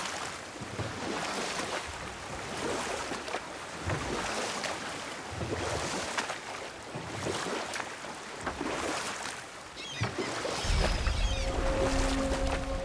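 A boat rowed through open water in the God of War video game: steady oar strokes splash in a regular rhythm about once a second, over a constant wash of waves and wind, with a low rumble rising near the end.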